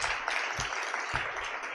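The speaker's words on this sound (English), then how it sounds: "So please, round of applause for them." Brief applause from a conference audience welcoming panelists at the Africa Evidence Summit in a large hall; a short burst of dense clapping, moderately loud and steady throughout.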